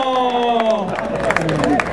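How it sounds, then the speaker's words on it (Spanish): Clapping and cheering break out from a rodeo crowd at a jaripeo for a child bull rider, short and lively under an announcer's amplified voice. "¡Échenle el aplauso al jinetito!"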